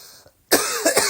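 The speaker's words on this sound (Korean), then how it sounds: "숨만 쉬어도 이제 기침이 나오네." A young man coughs once sharply and loudly, followed by a couple of rougher coughing bursts, close to the mic after a brief silence.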